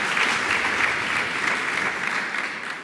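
A room of attendees at PyCon UK 2019 lightning talks applauds speaker Dominic, the clapping even and continuous before easing slightly toward the end.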